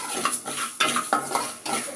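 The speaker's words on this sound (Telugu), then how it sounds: "మెంతులు కూడా సేమ్ యాజ్ ఇట్ ఈజ్ ఇలానే ఫ్రై చేసుకోవాలి." Fenugreek seeds are stirred and fried on low heat in a metal pot for mango pickle. About four rhythmic scraping strokes of a utensil rise over a soft sizzle.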